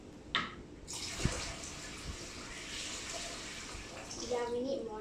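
Water poured from a carried container into a terrapin aquarium, a continuous close splashing gush lasting several seconds, with faint voices nearby.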